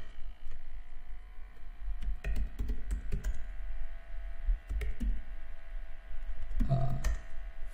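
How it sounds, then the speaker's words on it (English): Quiet keyboard typing, with irregular bursts of clicking keystrokes and a few sharper key presses near the end. "And press enter from your keyboard."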